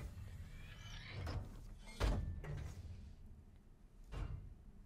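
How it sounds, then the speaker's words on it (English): A sliding door in the video game Alien Isolation grinds open with a heavy mechanical thunk and hiss, followed by a second clunk, set against a low ambient hum. "Let's get this door open."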